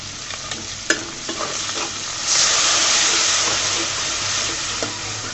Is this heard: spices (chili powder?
yes